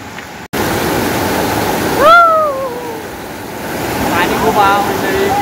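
Waterfall in the Sahyadri hills near Shivapur village, swollen by heavy rain, pouring in a steady close roar, while gliding whistle-like calls rise and fall briefly over the rushing water.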